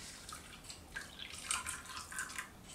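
Water pours steadily over couscous in a bowl, a faint, continuous splashing and trickling with no talk.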